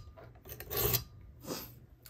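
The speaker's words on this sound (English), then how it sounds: "I'm using the 220 grit stone." A knife blade is drawn across a 220 grit sharpening stone on a Worksharp Precision Adjust sharpener: two rasping strokes, the first longer and louder, close and alone.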